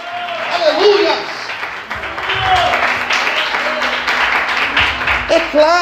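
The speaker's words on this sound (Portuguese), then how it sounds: "Aplauda o Senhor essa noite" A church congregation claps and applauds for several seconds, a dense burst of clapping that swells and holds beneath a preacher's raised voice.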